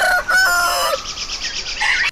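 A rooster crows loudly and close by, one full cock-a-doodle-doo with a long drawn-out ending, with no other sounds.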